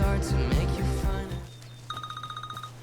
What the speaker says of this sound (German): Oh, Telefon.